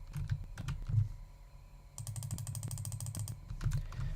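Computer keyboard keys and mouse buttons clicking in quick, uneven bursts during Left 4 Dead 2 gameplay on a Mac, close and fairly loud with a denser flurry of taps in the middle, no talk.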